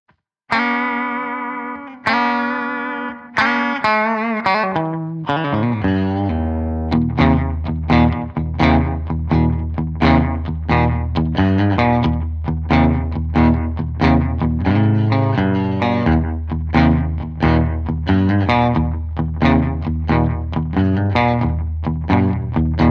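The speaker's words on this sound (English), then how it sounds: "You got some very clean slapback." Clean electric guitar played through a Biyang AD-10 analog delay pedal into a Fender Twin Reverb amp, starting with a few ringing chords, then a steady run of picked notes, each followed by a short slapback echo, loud and up close.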